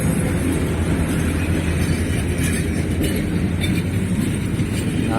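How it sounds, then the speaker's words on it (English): A train departs in Sri Lanka with a steady broadband rumble of wheels and carriages, continuous and moderately loud throughout with no talk. "Say goodbye to the train."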